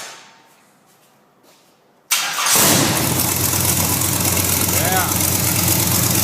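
A Motor City crate engine cranks and catches after a quiet pause, then settles into a loud, steady idle close by, with a brief word spoken over it.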